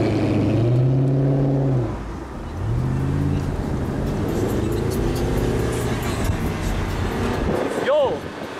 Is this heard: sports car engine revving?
yes